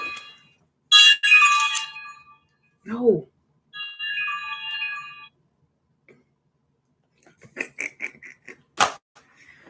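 A phone ringtone plays in bursts of bright electronic tones that repeat and pause, with a person's voice speaking briefly between the rings.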